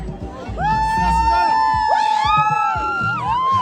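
Crowd at an Easter soccer tournament, a busy mix of cheering, shouting and whoops from many people, with whistle-like tones and voices talking nearby throughout.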